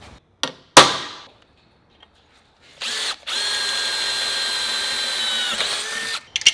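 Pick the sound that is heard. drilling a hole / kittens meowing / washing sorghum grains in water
drilling a hole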